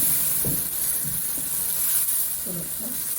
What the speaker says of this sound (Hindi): इसमें हल्का सा पानी डाल देते हैं